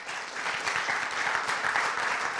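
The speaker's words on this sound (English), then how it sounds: "A little round of applause for Browns fans?" Audience applause from a crowd of football fans at a live talk event, steady dense clapping held at an even level throughout, with no talk over it.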